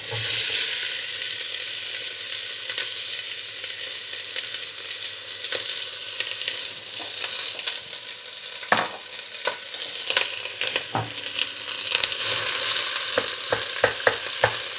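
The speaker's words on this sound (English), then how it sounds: "now so we put the sofrito in." Sofrito of onions frying in a pot as the base for split pea and ham soup, a bright continuous sizzle with scattered scrapes and stirring clicks, up close with no speech.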